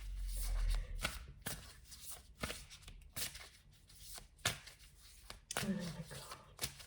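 A deck of tarot-style cards is shuffled by hand close to the microphone, giving repeated quick riffling bursts and soft slaps in an irregular rhythm, with some talking mixed in.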